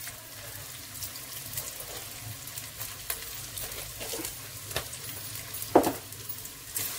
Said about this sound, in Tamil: வெங்காயம் வதங்க ஆரம்பிச்சிருச்சு